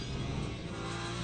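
A race car engine in the Le Mans Ultimate racing game at Silverstone gives a brief, faint, steady drone, heard alone with no voices.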